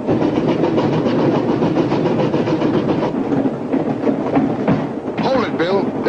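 A train rolls along with steady rumbling and clickety-clack from the wagons, then eases off as it slows, ending in a squealing tone; a voice is briefly heard amid the noise.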